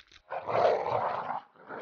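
Cartoon dogs growl in a low, sustained rumble for over a second, preceded and followed by brief quieter snarls, close and loud with no talking over it, in an animated fairy-tale story.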